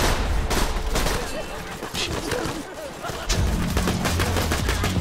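Rapid video-game gunfire in Borderlands 2, dense bursts of shots and automatic fire crackling almost continuously, with a voice talking over part of it and heavier low booms near the end.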